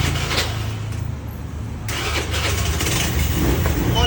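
A 2014 Honda Scoopy scooter engine cranks and catches, then settles into a steady, close-up idle.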